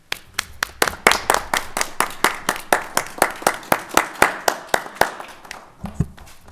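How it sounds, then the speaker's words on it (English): A small group claps for staff at a city council meeting, a loud, close run of individual hand claps in a steady, fairly quick rhythm for about six seconds before it stops. "I think we owe them a round of applause."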